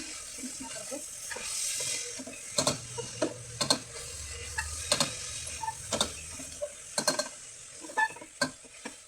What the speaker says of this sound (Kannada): ಇದೆಲ್ಲನೂ ಹಾಕಿದ್ದೀನಿ, ಮಿಕ್ಸ್ ಮಾಡ್ತಾ ಇದ್ದೀನಿ.